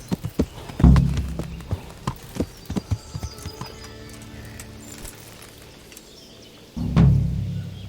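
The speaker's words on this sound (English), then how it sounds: "A very impressive ride, Henry. Truly. And on a horse from Neuhoff" Horse hooves clip-clopping during a ride in the Kingdom Come: Deliverance video game, a horse from Neuhoff, with irregular hoofbeats and two heavier thuds, no talking.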